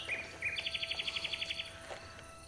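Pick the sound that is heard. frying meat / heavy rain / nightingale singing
nightingale singing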